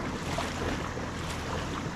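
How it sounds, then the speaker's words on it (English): Waves slapping against a boat on open water, a steady broadband wash mixed with wind noise across the microphone, continuous and fairly close, with no voices. "Man, them dang waves."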